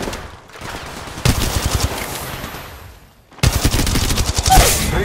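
Video game battle-royale gunfire: two rapid automatic bursts of loud close shots separated by a short quiet gap, the second burst longer and denser.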